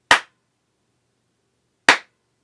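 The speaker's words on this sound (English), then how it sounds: "I clapped my hands before, so I'll do that again and we'll hear the difference." Two single hand claps about two seconds apart in an acoustically treated studio, each sharp and dry with almost no reverb, separated by silence.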